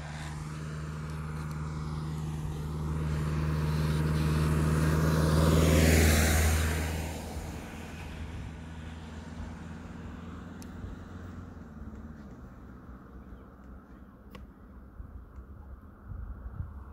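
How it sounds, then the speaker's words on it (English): A road vehicle approaches and passes nearby along a roadway, swelling to a loud peak then fading away, leaving faint distant traffic rumble. "Ah, traffic, guys."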